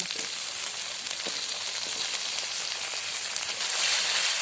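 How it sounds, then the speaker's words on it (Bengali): Chopped tomatoes hit a pan of onion and ginger-garlic masala frying in oil, setting off a steady, close hissing sizzle that swells louder near the end, with no voices. "কেটে রাখা টমেটো দিয়ে দেব"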